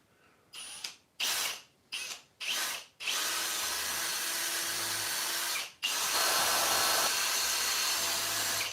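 Power drill boring a hole in a handmade workpiece, close and loud: four short bursts of whirring, then two long continuous drilling runs split by a brief pause, with no talking.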